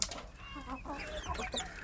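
Young Indonesian village chicks (ayam kampung) in a small group give high, quick peeps and clucking chirps, overlapping in short bursts at close range.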